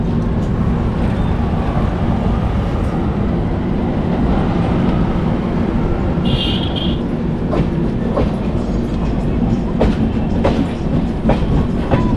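Navjeevan Express passenger train rolling along the rails, a loud continuous rumble with rhythmic clicks and clacks of wheels over track joints, plus a brief squeal partway through, with no voices.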